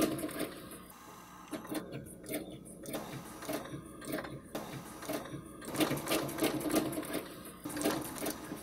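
Sewing machine stitching a quilting pattern along a Westalee ruler template, a close mechanical whirr that surges and pauses in short runs as the needle travels, with a faint voice now and then.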